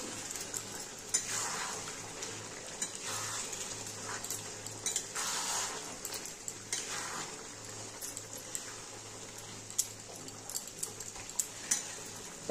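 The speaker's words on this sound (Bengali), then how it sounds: "এবার আমি চিকেনটা দিয়ে দেব। এবার আবার একটু নেড়ে দেবো।" Chicken being stirred into a spiced masala in a pan for a Bengali chicken kosha, with soft scraping, sizzling and occasional utensil clinks spread steadily across several seconds, no talking.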